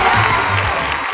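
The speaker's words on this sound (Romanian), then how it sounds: "Aplauze pentru cele 5 finaliste!" A brief burst of audience clapping and cheering for five finalists of a village beauty pageant, loud and crowded.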